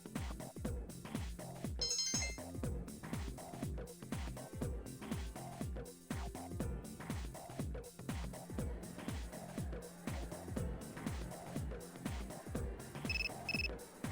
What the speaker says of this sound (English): Oh, text message.